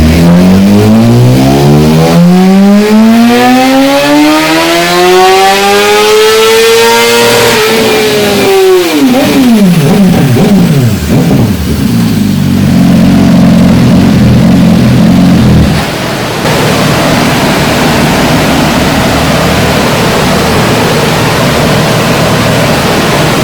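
A stock 2018 BMW S1000RR motorcycle screams up through the revs on a dyno, pitch climbing steadily to a peak, then dropping away into a lower steady drone and fading to a quieter idle-like rumble, loud and close throughout.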